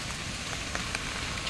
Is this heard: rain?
yes